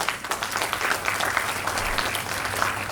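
Audience applause at an ideathon talk, a mid-sized crowd clapping in a busy, slightly uneven patter with individual claps poking through, continuing evenly without speech.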